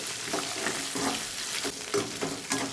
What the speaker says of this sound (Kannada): ಹಸಿಮೆಣಸಿಗೆನ ಸ್ವಲ್ಪ ಫ್ರೈ ಮಾಡ್ತೀನಿ ಎಣ್ಣೆಯಲ್ಲಿ